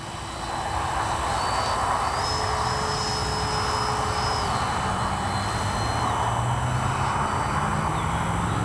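Freewing JAS-39 Gripen 80mm electric ducted-fan RC jet on landing approach in the evening, a steady loud whine with a whistling tone that shifts pitch as the throttle changes, continuous throughout without talk.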